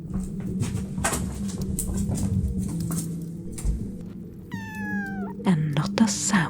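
A kitten gives a single short rising meow near the end, set in a Skyrim cooking scene under a steady low background hum and soft ambient murmur.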